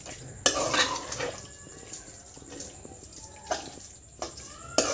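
Minced mutton keema is stirred and scraped in a pan, giving irregular metallic clinks and scraping strokes over a faint background hiss, close and alone without talk.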